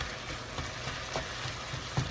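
Ground beef browning in a pan for a cabbage burger bake, a steady low sizzle with occasional scrapes and taps as a pancake turner chops and stirs the meat, close and without talk.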